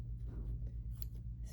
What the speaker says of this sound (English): I'm going to cut away the excess stabilizer.